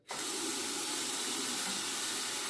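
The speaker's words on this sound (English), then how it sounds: "Now let me run a little bit of water here." Water from a tap runs into a bathroom sink during a wet shave, switching on abruptly and then flowing in a steady, close hiss with no talking.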